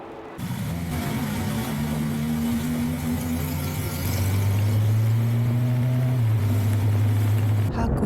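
A BMW S1000RR motorcycle fitted with an SC-Project GP-70R exhaust idles at a fuel station, a steady low rumble that grows slightly louder and deeper midway, with a brief blip near the end.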